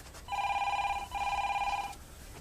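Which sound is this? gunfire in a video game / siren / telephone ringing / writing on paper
telephone ringing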